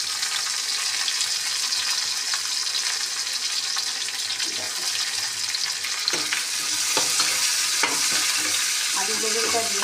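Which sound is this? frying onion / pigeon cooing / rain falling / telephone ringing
frying onion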